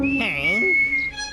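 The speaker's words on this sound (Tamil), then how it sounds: "என்ன தைரியம் இருந்தா விசில் அடிப்படா." A cartoon character whistles a single sliding, wavering tone lasting about a second, close and clear, with a faint tonal hum continuing behind it.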